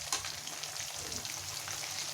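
Chicken frying in a pan, a faint, even crackling sizzle heard close with no talk over it.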